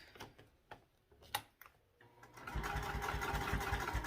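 After a few scattered clicks and taps, a sewing machine starts up and runs steadily, a fast rhythmic whirring stitch close by, sewing vinyl or canvas for a backpack.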